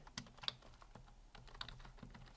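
Fingers tapping on a computer keyboard: a short, uneven burst of close, crisp keystrokes and clicks, with no voices.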